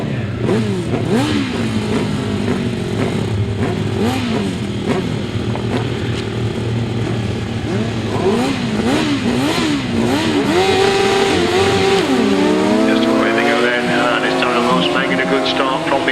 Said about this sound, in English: Just the three outfits for race 44, Lester Page, Darren Wills and Phil Symes.